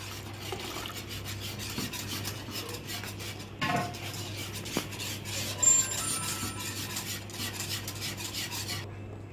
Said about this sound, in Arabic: اللبن ابتدى يغلي معانا، هننزل عليه بالنشا ونقلب كويس.